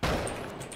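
Gunfire in Rainbow Six Siege, heard as a single loud, close burst of shots that decays quickly within a second, with no talking over it.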